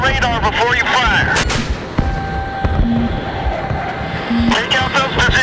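AGM-88 missiles launch and explosions boom in Battlefield 3, with rumbling blasts and cracks under continuous radio chatter and steady jet noise, a sharp impact marking the middle.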